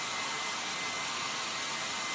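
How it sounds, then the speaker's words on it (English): Hair dryer blowing steadily on a mixed-media crafting project of greyboard flowers, a constant close whooshing hum with no pauses or talking. "I'm using the hairdryer rather than the heat tool."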